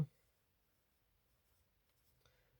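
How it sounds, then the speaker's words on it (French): Pen marking a drawn number on paper during a bingo loto draw, heard as faint, soft scratching strokes in a quiet room with no talking. "Alors, moi, je vais le noter de mon côté."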